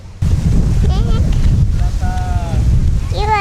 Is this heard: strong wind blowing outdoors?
yes